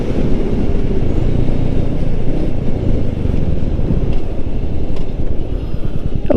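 A Royal Enfield Meteor 350 single-cylinder cruiser drones steadily while accelerating at around 60 mph on a test ride. The engine hum blends with heavy, continuous wind rush throughout.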